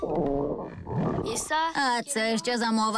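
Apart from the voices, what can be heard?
cartoon character's stomach growling from hunger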